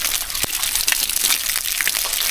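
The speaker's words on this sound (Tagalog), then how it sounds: "Malakas din ang tubig, ano?" Strong flowing water rushes and gushes steadily and loudly up close, a continuous broadband roar with a few splashy bursts.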